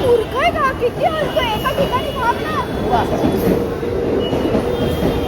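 A local train to Virar rumbles and clatters past nearby in Jogeshwari, loud and continuous, while voices chatter over it.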